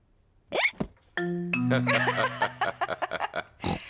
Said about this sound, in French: Ça suffit, arrête d'avoir le hoquet.